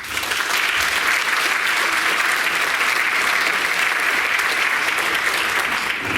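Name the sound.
audience applause for award recipients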